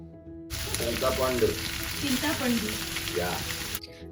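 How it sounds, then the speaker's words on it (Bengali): Dal and ginger frying in a pan give a dense, steady sizzle for about three seconds, with faint voice traces beneath it. "রান্নার শব্দটা এতটাই নয়েজ ছিল যে কথাগুলো কিছুই বোঝা যাচ্ছিল না"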